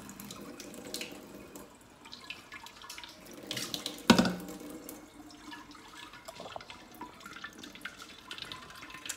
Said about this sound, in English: I'm filling it up, as you can see, in my sink.